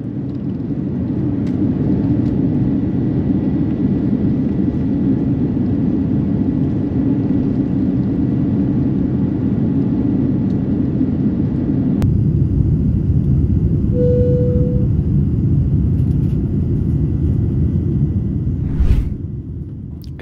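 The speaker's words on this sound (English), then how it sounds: "we made our way to the runway for an on-time departure" Steady low rumble of a Qantas airliner taxiing toward the runway at Sydney for departure, heard from inside the cabin, a continuous even drone with a brief bump near the end.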